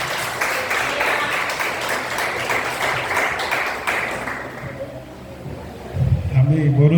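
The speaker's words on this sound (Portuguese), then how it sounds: "Aplauda ao Senhor, irmãos." A church congregation applauds during an anniversary service, dense clapping for about five seconds that then fades out, followed by a voice starting to speak.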